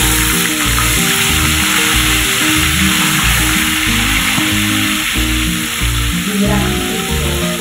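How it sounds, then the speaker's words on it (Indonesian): Tempeh drops into hot cooking oil and fries with a loud, steady, close sizzle that runs unbroken throughout. "Setelah minyak panas teman-teman, kita masukkan tempenya."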